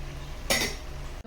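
A metal lid is set onto a cooking pot of potatoes in a home kitchen, giving a single short clatter close by over a steady low hum.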